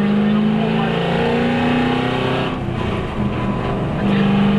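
A V8 Supercar engine pulls hard toward 5,000 RPM, its loud rising roar dipping briefly mid-run before climbing again.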